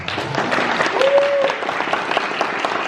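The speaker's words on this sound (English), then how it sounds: "give your parents and all your caregivers here a round of applause" An audience at a National Honor Society induction ceremony applauds parents and caregivers, a dense, steady round of clapping filling the hall for the full stretch, with a brief tonal squeak partway through.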